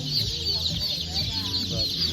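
High, rapid peeping of many chicks at a hatchery fills the clip continuously, with soft low rustling and murmurs beneath.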